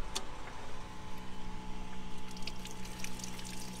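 Water running steadily from a tap in a camper van while washing up, a quiet continuous rush with a low pump hum underneath and no talk.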